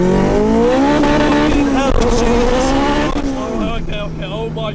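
A 500bhp turbocharged B16 EF Civic hatchback accelerates hard on the road, the engine note climbing through rising revs with a gear change and turbo whoosh, loud and close inside the car as occupants talk.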